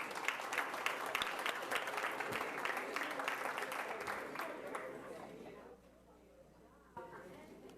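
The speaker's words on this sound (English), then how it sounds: "Let's give everyone a round of applause." Audience applause fills a school board meeting as essay contest winners are honored, a dense sustained clapping that fades out near the end before a brief clatter.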